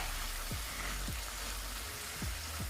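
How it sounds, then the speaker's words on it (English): A Scotch bonnet pepper fries in a pan for a vegan mushroom vegetable rice, giving a steady broadband sizzle with a few low thuds. No one speaks. "So I'm putting my Scotch bonnet pepper there as well, guys."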